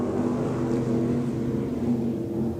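Stock cars racing on an off-road dirt speedway under green flag, engines droning in a steady, moderately distant roar with a sustained rumbling hum and no clear individual passes.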